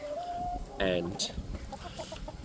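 Backyard chickens in a Melbourne garden cluck in short bursts at close range, with a brief spoken word and more voices nearby.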